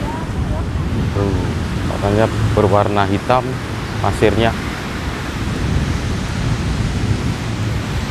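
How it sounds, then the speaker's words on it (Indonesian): Strong ocean surf rushes steadily at Ketawang beach, a black-sand shore on the south coast, as a continuous loud wash of waves runs under someone talking. "Kemudian debur ombaknya juga kencang sob."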